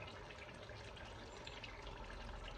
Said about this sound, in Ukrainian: Почнемо відкривати соус і наливати соус.